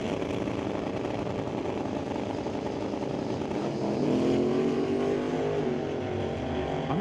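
Drag race cars at an NHRA Super Pro event launch off the starting line, heard from a distance as a low roar that swells about halfway through into a rising, sustained engine whine.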